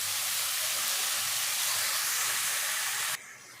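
Blended tomato poured into hot oil in a pan fries with a loud, steady, close sizzling hiss that holds evenly for about three seconds, then drops abruptly to a quieter simmer.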